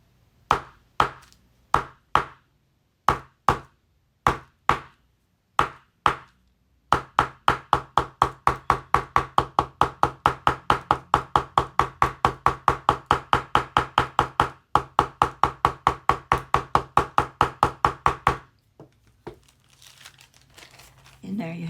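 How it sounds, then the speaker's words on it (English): Pounding sunflower petals onto a white blouse with a hammer: a run of sharp, evenly spaced knocks, first slow and separate, then a fast steady rapid-fire hammering for about twelve seconds before stopping. "So I'm going to put this back and I'm going to pound one of these sunflower petals."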